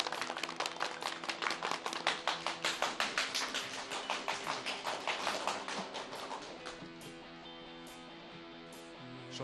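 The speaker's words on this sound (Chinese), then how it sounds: "大家掌声有请" A room of people clapping at a press conference, a brisk, fairly even run of claps that stays strong for several seconds, then thins and dies away near the end.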